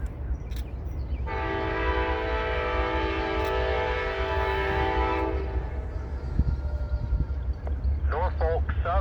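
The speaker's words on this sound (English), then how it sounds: "Amtrak 19 to come south with a pair of P42 DCs" Amtrak 19 passenger train led by two P42DC locomotives passing close and loud, with a long sustained multi-tone horn blast over heavy rumble and rail noise, then brief chirping near the end.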